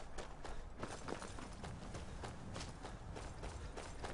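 Horse hooves clip-clop at a quick running pace in the video game Skyrim, a steady rhythmic patter of fairly close, moderately loud hoofbeats with no talk over them.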